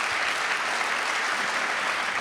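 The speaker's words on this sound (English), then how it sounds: "You can applaud that." An audience claps steadily in a hall at a live interview event, a dense, even wash of applause filling the whole moment without a break.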